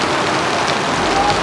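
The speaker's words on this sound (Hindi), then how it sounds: "अंधाधुंध बारिश। ये देखिए," Heavy monsoon rain pours down at the Amarkantak hill station in a dense, constant roar close by, unbroken for the whole stretch.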